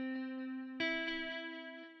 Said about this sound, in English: what we have is just like a really simple guitar sound